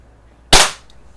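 A Predom Lucznik air rifle fires a pellet, one sharp, loud crack that fades fast, alone with no talk around it.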